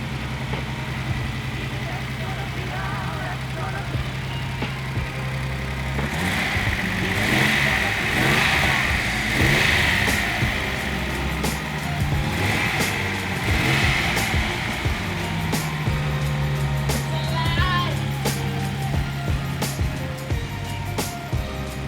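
A 48-year-old Datsun 240Z engine idles and revs repeatedly, rising in bursts of throttle over a steady rumble, close and loud, with people talking over it.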